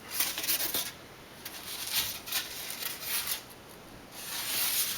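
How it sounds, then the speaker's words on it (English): A composite plane wing core is sanded by hand, giving bursts of dry rasping strokes that come and go in an uneven rhythm, close and fairly soft, with no talk. "I might sand this wing down"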